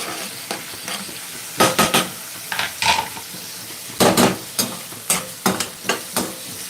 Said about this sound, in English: I'll also add the onions. It will start browning with them.